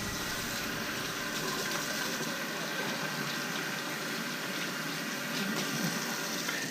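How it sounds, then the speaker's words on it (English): Running tap water gushes steadily and evenly as hands are washed beneath it, with no talking. "And we're going to wash our hands."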